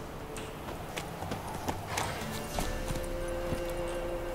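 A horse's hooves clip-clop at a steady walking rhythm in The Witcher: Wild Hunt, fairly quiet and even against a soft game ambience with a faint tone.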